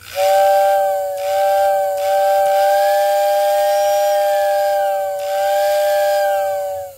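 A loud, sustained Lionel O gauge whistling tender steam whistle blows continuously with a breathy hiss, its tone wavering slightly in pitch and strength throughout.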